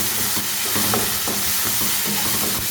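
Spices and chicken masala are stirred into tomato masala in a frying pan, giving a steady sizzle and hiss with repeated soft scraping strokes of a spoon at an even rhythm, close by, with no talking.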